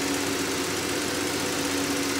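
An engine idles in a steady low rumble with a faint rhythmic knock, continuous throughout and fairly close.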